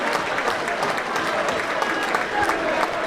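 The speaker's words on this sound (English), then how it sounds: "Ryan Whitley applauding everyone." A football crowd and a player applaud at the Scarborough v Warrington NPL play-off final, a broad, continuous clapping roar with a commentator's voice running faintly underneath.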